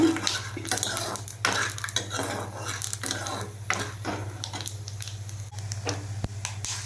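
Flattened rice and peanuts stirred as they fry in oil in a pan, repeated close scraping and clattering strokes of a spoon against the pan over a steady low hum.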